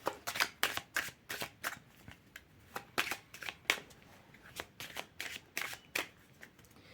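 Oracle of Kheops cards are shuffled by hand, giving a quick series of crisp riffling snaps and flutters in uneven bursts, close and moderately quiet.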